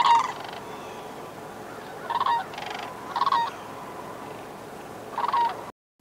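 Several rattling, trumpeting sandhill crane bugle calls come in short bursts with pauses between, clear against a quiet, steady outdoor background.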